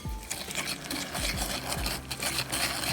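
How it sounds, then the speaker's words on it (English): Cookie dough ingredients are whisked in a bowl. Fast, steady scraping strokes sound loud and close, with soft rhythmic knocks against the bowl and no talking. "Once again, whisk."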